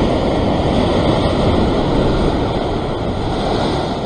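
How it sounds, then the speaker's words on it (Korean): Ocean surf washes steadily and loudly against a rocky shoreline near Sydney during sea fishing, a continuous broadband roar of breaking waves with some wind buffeting and no one talking. "또 파도가 있으니까 조금 두고."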